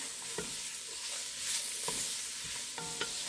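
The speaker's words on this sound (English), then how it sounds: "Then I'm going to saute these a bit." Vegetables sauté in a pot for a gumbo made without pork or beef, with a steady sizzle and a few scraping stirs of a utensil close by. No one speaks.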